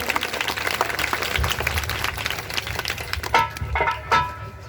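A crowd at a rally claps loudly for a woman candidate, a dense rough patter of applause with some louder sharp claps near the end, a bit of background voice mixed in.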